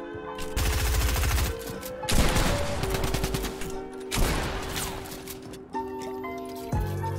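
A video-game gun fires in rapid, continuous bursts, loud and close, with short breaks between strings of shots and electronic game sounds layered underneath.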